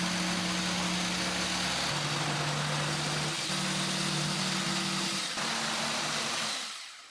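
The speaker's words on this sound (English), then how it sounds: "I drilled a pilot hole and began cutting that out with a jigsaw." A jigsaw cuts through plywood for a homemade light table, with a continuous loud motor buzz and harsh cutting noise that holds a steady pitch, shifts slightly several times and winds down at the end.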